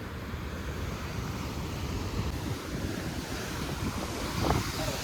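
Ocean surf rolls onto a secluded, hidden beach at Kondura near Vengurla on the Konkan coast, a steady broadband wash of waves mixed with gusting wind buffeting the microphone, without pause and fairly loud throughout.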